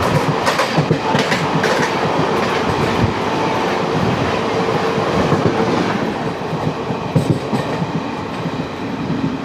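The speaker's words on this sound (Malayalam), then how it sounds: "വരുന്നതാണ് നമ്മുടെ Alappuzha Chennai central super fast." An Alappuzha–Chennai Central superfast express with new LHB coaches runs past close by, a loud steady rumble of wheels and carriages with rhythmic clickety-clack over rail joints throughout.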